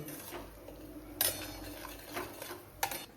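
Spoon scraping and clinking in a pan while sheera, roasted semolina being cooked for Satyanarayan prasad, is stirred as milk is poured in, with soft steady scraping and a couple of sharper metallic taps.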